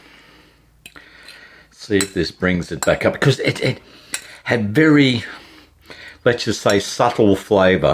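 Metal utensil scraping and clinking in a pan as hot sauce is stirred into fried rice, intermittent clatter under someone talking throughout.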